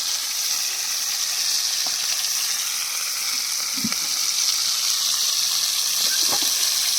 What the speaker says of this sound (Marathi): त्यामुळे आता मम्मी तवा फ्राय करते चिकन.